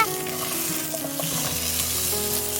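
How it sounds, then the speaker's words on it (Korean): Potatoes sizzle steadily in a hot frying pan of cooking oil and perilla oil, with a dense, close crackle and faint stirring under it, and no voices. "팬에 식용유, 들기름을 넣고 중불로 켜고 달궈진 후라이팬에 건져놓은 감자를 넣어줍니다."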